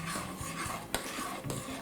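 A utensil stirs cornmeal polenta into water in a pot, producing a steady close scraping and swishing with a couple of sharper knocks against the pot, with no voices.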